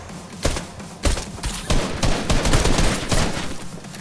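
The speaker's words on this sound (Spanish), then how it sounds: "¿Por qué dispara tan raro?" Repeated gunfire in Fortnite: sharp shots and rapid bursts, fairly loud and close, firing almost continuously throughout.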